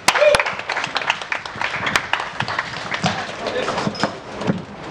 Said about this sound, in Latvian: Sagaidam ar aplausiem.